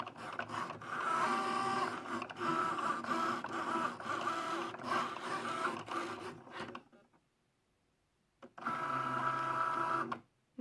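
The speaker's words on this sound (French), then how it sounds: "Et ensuite, il fait donc la découpe." A Cricut Joy cutting machine cuts out an image of a rabbit, giving a steady mechanical whir and clatter. It runs for about seven seconds, stops, and then starts again near the end.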